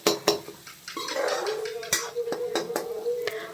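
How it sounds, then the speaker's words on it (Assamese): A spoon stirring spices into dal in a metal pot, with sharp clinks and taps against the sides over a steady sizzling, scraping texture throughout. "সেইখিনিও ইয়াতে দি ভালদৰে এইখিনি লৰাই ল'লোঁ।"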